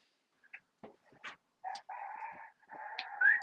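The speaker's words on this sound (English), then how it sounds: "You hear the roosters, boy. The roosters are hollering today." Several roosters crow and holler in quick succession, sharp calls followed by longer drawn-out crows, fairly close and clear against an otherwise quiet background with no talking.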